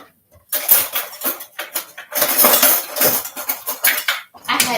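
A metal teaspoon rattles and clinks among dishes and measuring spoons while soap-making supplies are sorted, with close, busy, overlapping clatter that comes in quick bursts and pauses.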